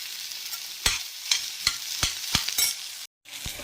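A pot of curry with amaranth greens and drumsticks sizzles under a low hiss, broken by sharp clacks as a spoon stirs it about every half second. There is one brief silent gap near the end.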